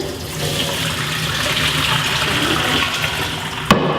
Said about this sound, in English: When the pasta shells are done, you can go ahead and strain them.